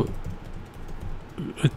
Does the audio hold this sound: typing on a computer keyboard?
yes